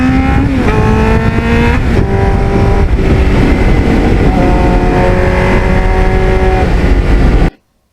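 A 1989 Kawasaki Ninja GPX750R, without traction control or ABS, revs hard through several gears on the road, its engine pitch climbing and dropping with each shift, loud and close until it cuts off abruptly at the end.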